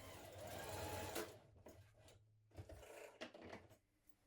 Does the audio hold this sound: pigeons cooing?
no